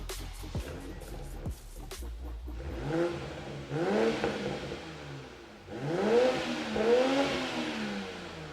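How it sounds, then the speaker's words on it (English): A few sharp clicks, then a nearby BMW Z4 G29 engine with a Remus exhaust revs up and down repeatedly in rising, falling swells, loud and without speech. "We'll show you guys some before revs and some after revs"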